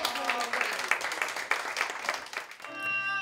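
Group applause for elderly hosts during a high school students' visit in Osaka, Japan: a steady burst of clapping that fades after about two and a half seconds into a sustained musical tone.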